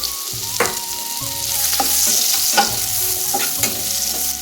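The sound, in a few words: chopped onions added to garlic and stirred in a frying pan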